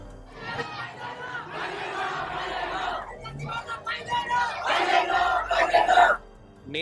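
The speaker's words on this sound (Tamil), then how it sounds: "வீதிகளில் கூச்சல் குழப்பம்" Rioting crowd in the streets of Nepal: many voices shouting and chanting in loud surging waves, near and continuous, with chatter beneath before it drops off at the end.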